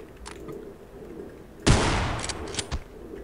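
Gunfire in the horror game Afraid of Monsters: Director's Cut, a loud close burst of rapid shots with a booming tail, followed by a couple of fainter single pops, set against a quiet ambient hum.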